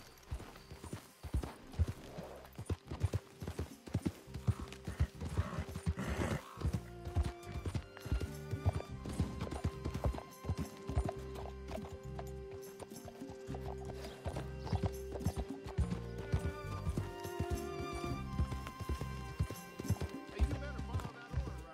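Horse hooves clip-clop in Red Dead Redemption 2, a steady rhythmic trotting beat running throughout under layered game sound and music, with an occasional whinny.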